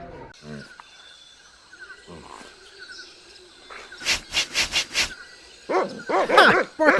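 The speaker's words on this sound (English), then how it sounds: "Bark as loud as you want." A cartoonish dog barks in the video game Monkey Island 2: a rapid run of about five loud barks, then more bursts near the end, with quieter game sounds before them.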